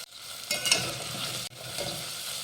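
Spices, turmeric and chopped coriander being stirred in a hot pan for Maharashtrian masale bhat, a close continuous sizzle with brief spoon scraping and a short break midway.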